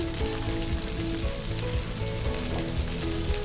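Small tomato pieces go into onions already frying in a pan, giving a dense, loud, continuous sizzle and crackle. No one speaks.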